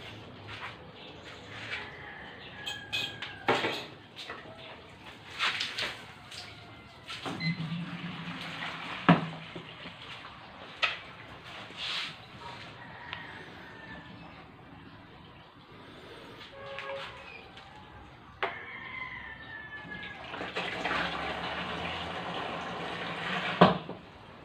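A submersible water pump pours water into a 30 liter plastic garbage can, making a faint, continuous rushing and splashing with uneven surges and occasional knocks, all at a low level throughout.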